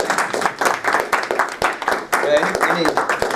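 Audience applause after a talk at a conference session, dense steady clapping from a crowd with some voices mixed in, continuing loudly throughout.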